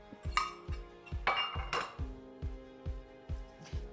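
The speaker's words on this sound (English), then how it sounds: "And then we're going to stir it up." A spoon or whisk knocks rhythmically against a bowl as a custard mixture of eggs and sugar is stirred for a Swiss apple pie, giving about a dozen evenly spaced clinks with a few louder scraping swishes, close and clear with no talk.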